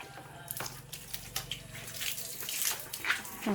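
Water and fish are tipped out of a pot in a steady, splashing gush that stays fairly faint, with a voice in the background.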